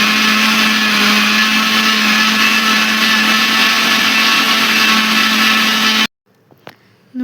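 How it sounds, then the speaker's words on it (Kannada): A kitchen mixer grinder grinding chicken kabab spice powder in its jar runs loud and steady with a constant motor whine for about six seconds, then cuts off abruptly, leaving a few faint clinks. "ನೀಟಾಗಿ ಮಿಕ್ಸಿ ಜಾರಿಗೆ ಹಾಕ್ಕೊಂಡು ರುಬ್ಕೊಬೇಕು"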